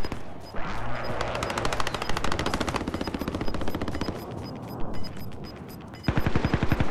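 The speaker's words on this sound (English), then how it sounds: "start shooting at him" Rapid automatic gunfire in a video game firefight, long bursts of tightly spaced shots rattling nearly nonstop, loud and close, with a brief lull before a final heavy burst.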